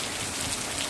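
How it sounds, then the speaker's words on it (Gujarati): Steady rain pouring in Wankaner, a dense, even hiss of drops striking surfaces nearby, continuous and fairly loud with no voices. "વાંકાનેરમાં વરસાદ હો અટાણે"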